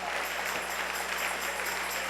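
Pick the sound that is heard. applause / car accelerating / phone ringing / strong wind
applause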